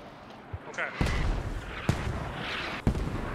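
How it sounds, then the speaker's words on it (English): Mortar rounds land in a Squad match on the Narva map, heavy booming impacts arriving in a quick irregular barrage of three or four blasts over continuous rumbling battlefield noise. "mortars dropping on the southwest push"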